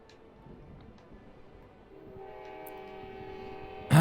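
A train approaches and its horn blares in steady sustained tones, building from about two seconds and growing loud, with a sharp close burst at the very end.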